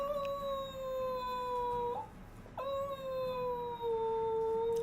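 A dog howls in two long, sustained, tuneful phrases that rise and fall like a sung melody, loud and close, with a short break between them.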